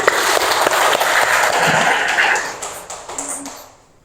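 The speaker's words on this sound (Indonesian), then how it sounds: "Tepuk tangan." Ninth-grade students clapping in an Islamic education class, a dense burst of applause with sharp taps that tapers off and dies away over the last second.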